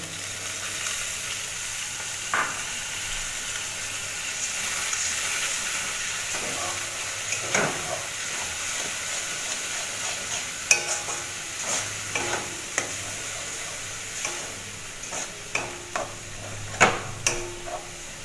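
Doi katla, a Bengali yogurt-based catla fish curry, stirred in a pan, giving a steady soft frying hiss with scattered scraping clicks and taps from the spoon, moderately close and without talk.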